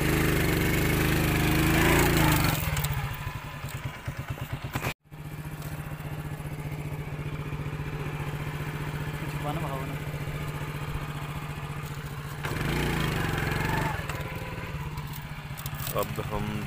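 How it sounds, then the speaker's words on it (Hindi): Motorcycle engine running near the Chenab river, a steady droning mid-pitched rumble that stays loud throughout, briefly cut out once, then rising in intensity toward the end; no clear talk over it. "अब हम दरिया से गुजरेंगे मोटरसाइकिल पे बैठ के ही"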